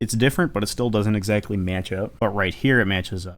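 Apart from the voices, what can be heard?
No everyday noise stands out behind the speech.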